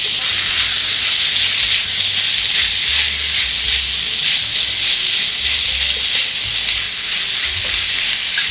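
Blanched fish cakes and garlic stir-fried over high heat: a loud, continuous sizzle with hissing steam and occasional stirring, heard close with no speech.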